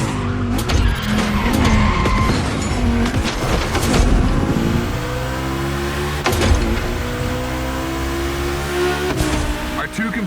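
Video game cars in The Crew Motorfest race on a Gymkhana Grid track, with Volkswagens among them: close, loud engine roar and revving, repeated tire squeals and skids, and sharp transient knocks, all under a speaking voice.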